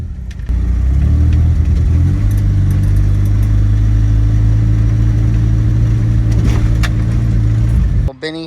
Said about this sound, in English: it's the first time we've taken this engine out on the road